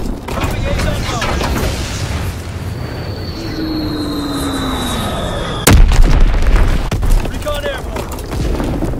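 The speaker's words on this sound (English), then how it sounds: "Dropping Azon bomb." Azon bombs explode in a World War II video game, heavy booms rolling over a droning aircraft engine and a long falling whistle, with one sharp loud blast near the middle and scattered distant gunfire.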